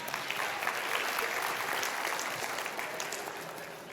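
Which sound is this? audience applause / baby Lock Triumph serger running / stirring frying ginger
audience applause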